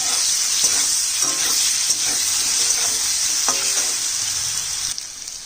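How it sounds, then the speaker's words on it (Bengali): Small taro pieces fry in oil with turmeric, giving a steady close sizzle and hiss with occasional soft stirring scrapes, holding throughout and easing slightly at the end. "সামান্য হলুদ দিয়ে ভাজবো"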